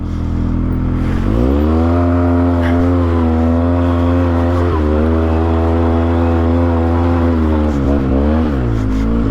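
A Polaris Sportsman 700 ATV engine revs loud and close while climbing, its steady drone dipping and rising as the throttle is held on, with no talking over it.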